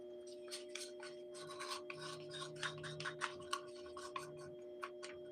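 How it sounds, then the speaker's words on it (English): Material is scraped out in faint, close, rapid rasping strokes in an irregular rhythm over a steady low electrical hum, with no talking. "Scrape out as much as you can into it."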